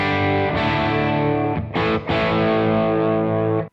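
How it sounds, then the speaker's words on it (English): An electric guitar plays heavily distorted chords through an overdriven valve amp with power amp distortion, a thick sustained crunch with a brief break before ringing out. "we started to get some more power amp distortion"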